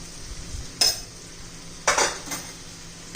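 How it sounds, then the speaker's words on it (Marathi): Homemade rajma masala with onion, garlic and turmeric stirred in a pan, a low sizzle running underneath while a spoon scrapes the pan in three short, sharp bursts spaced about a second apart, with no talking. "छान असं मिक्स करून घेऊया"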